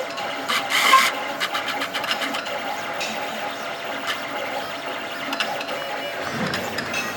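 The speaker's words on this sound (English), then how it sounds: "there's a motor back there that's driving this" A 3D printer's extruder motor and bolt feed filament down toward the melting nozzle, giving a soft, steady mechanical whir with brief scratchy bursts, fairly quiet and close, with no voices.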